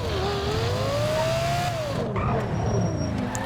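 A Lexus LFA engine revving in GTA 5, its loud, smooth note rising and falling as the car drives, with a brief tire squeal partway through.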